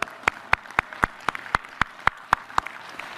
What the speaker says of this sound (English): So let's clap from those guys.